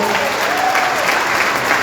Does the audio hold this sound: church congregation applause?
yes